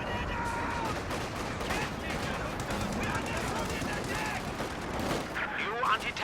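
Dense, continuous gunfire from a Company of Heroes 2 match, with machine gun bursts and scattered shots layered over each other at steady loudness and a louder crack near the end.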